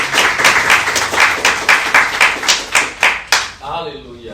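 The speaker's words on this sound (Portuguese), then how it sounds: "Você pode aplaudir ao Senhor com o seu melhor?" Church congregation applauding together during a worship service, a dense run of claps in a steady rhythm for several seconds that fades out at the end.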